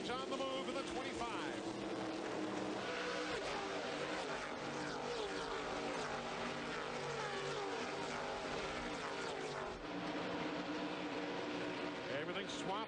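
NASCAR Busch North Series stock cars race at Loudon, New Hampshire, their engines a dense, continuous roar as the pack passes, with a commentator talking over the noise throughout.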